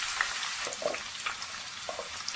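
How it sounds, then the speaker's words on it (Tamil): Thinly sliced onions frying in oil in a pan, giving a close, continuous hiss and crackle with small spitting pops throughout. "மெலிசாக கட் பண்ண வெங்காயம் ஃப்ரை பண்ண போகிறோம்"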